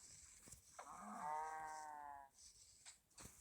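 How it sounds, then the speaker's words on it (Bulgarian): A cow in a survival video game gives a single drawn-out moo, clear and close, with faint background hum and a few soft clicks around it. "О, две крави!"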